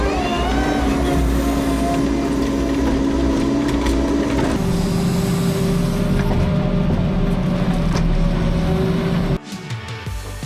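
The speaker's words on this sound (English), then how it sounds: "Have you ever seen a Narva H60 split a large log that fast and neatly?" Narva H60 hydraulic log splitter working through a large log, a steady loud mechanical drone with shifting engine pitch that cuts off near the end.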